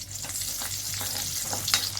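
Garlic sizzling in hot oil, a close, steady crackling hiss with faint stirring sounds.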